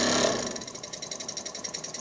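A small toy steam engine runs under steam pressure with a steady, rapid mechanical chuffing and ticking rhythm, moderately loud and close, with no voices.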